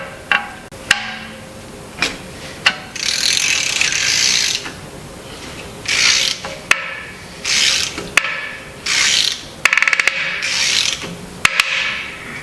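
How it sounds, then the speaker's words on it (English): A ratchet clicks in repeated bursts, close and loud, as a wheel bearing is tightened and seated, with sharp cracking snaps between the bursts. "That cracking sound is normal. That's the bearing seating itself."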